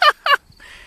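Two loud, close squawking farm-bird calls in quick succession from a rooster on a family farm, followed by a faint hiss and quiet background.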